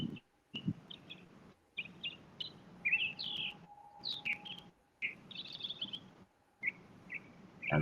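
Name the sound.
birds singing outdoors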